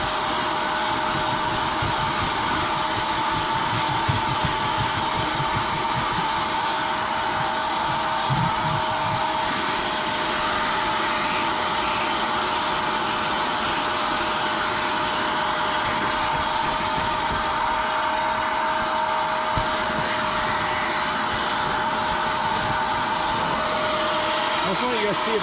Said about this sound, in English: Alright, so we used the carpet cleaner.